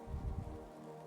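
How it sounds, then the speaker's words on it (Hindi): Soft, steady rainfall pattering on a surface, faint and continuous, with a low hum running underneath. "मैं आभारी हूँ वर्षा, बारिश का, जिसकी ध्वनि मुझे बहुत अच्छी लगती है"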